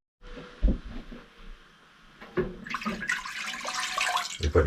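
Tap water splashes into a container for pickling brine at an off-grid cabin, a few clunks followed by a steady rushing pour that grows fuller as it fills, with no talking.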